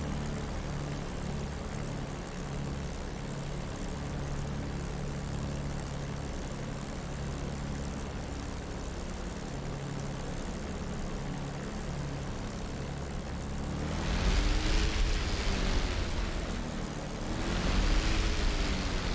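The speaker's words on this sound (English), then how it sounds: "this tractor configuration airplane blowing all that wind towards us" A P-51 propeller plane idles in a simulated cockpit, its tractor propeller pushing a steady roar of engine and wind toward the seat, which swells louder twice near the end.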